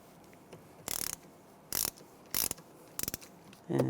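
A ratchet snugs a bolt on the rear brake bracket of a 2006-2009 Mercedes-Benz E350, giving four or five short bursts of quick metallic clicking separated by brief pauses, close and fairly quiet with no talking.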